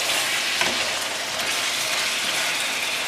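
Beef stew with potatoes being stirred in a pot, giving a steady, close bubbling hiss with faint scraping throughout and no voices.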